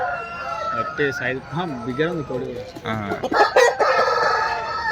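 A rooster crows loudly nearby, its rising and falling call repeating, with other clucking fowl and voices in the background.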